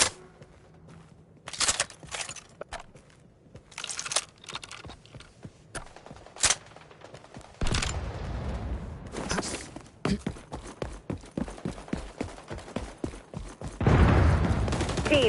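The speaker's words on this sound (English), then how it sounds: "Looks like the shooting started already" Gunfire in XDefiant on PS5, with repeated bursts of automatic fire and single shots, some close and loud, some farther off, running through a tense multiplayer match and building to a heavy volley near the end.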